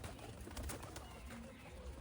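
Soft cooing of white pigeons buried in a steady, hissy background, faint and continuous with no clear break.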